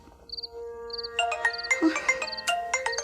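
A cellphone ringtone plays a repeating pattern of bright electronic beeps, then swells into a busier, melodic jingle, fairly loud and clear with no talking.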